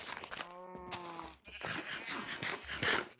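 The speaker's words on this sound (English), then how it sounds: "now we have very loud sheep and very loud cows right next to all of our stuff, so you can hear lots of cow and sheep noises" Sheep bleat and cows moo in the Minecraft video game, with a clear harmonic bleat near the start followed by busy overlapping animal calls that are loud and close.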